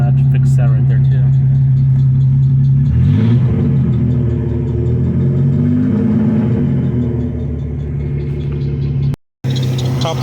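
A 1993 Chevy S10 Tahoe's 2.8 TBI engine with a five-speed and a troubled power steering pump runs after a cold first start, idling loud and close with a steady low drone, a brief rev surge early on, and a short cutout near the end.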